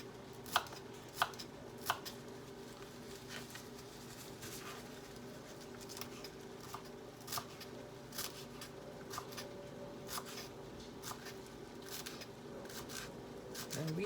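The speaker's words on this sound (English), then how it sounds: "Cut off the ends." A knife chops the ends off washed cilantro for Mexican salsa, giving a few sharp board taps early, then lighter scattered cuts over a steady low hum, quiet and close.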